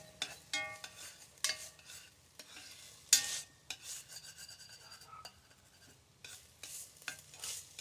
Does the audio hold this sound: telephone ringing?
no